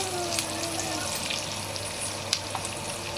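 Oil sizzles and spits steadily in a pan while ingredients for egg biryani are browned, with occasional small pops and a stirring scrape, close and continuous.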